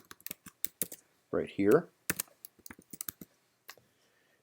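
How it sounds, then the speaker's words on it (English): Quick clicks of typing on a computer keyboard, close and crisp in short irregular bursts, with a brief spoken phrase partway through. "I'll just type the command summary"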